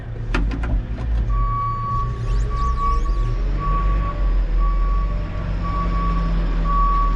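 Truck reversing with a trailer, a steady repeating reversing beep over a low rumbling engine, with a few clanks near the start.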